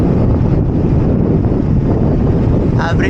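Steady wind buffeting the microphone during an early-morning road bicycle ride near Los Baños on the Laguna loop, a constant loud rushing roar across the whole stretch with no break.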